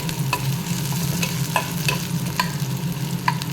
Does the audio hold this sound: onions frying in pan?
yes